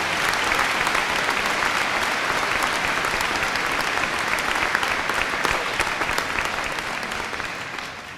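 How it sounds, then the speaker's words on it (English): Sustained applause from a large audience at a spring 2015 university commencement ceremony, dense steady clapping that fades slightly toward the end. "Let's give them a big round of applause."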